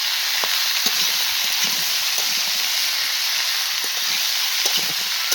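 Vegetables for a catering-style chhechra sizzle and hiss steadily in a pan over low heat, with soft scraping taps as they are stirred.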